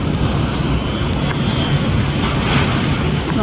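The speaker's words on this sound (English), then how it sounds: "StarLux livery from Tokyo Narita. Touching down 24 left." A StarLux Airbus A350 arriving from Tokyo Narita touches down on runway 24 left at LAX, a steady, loud, broadband jet roar that holds evenly from start to finish with no other sounds.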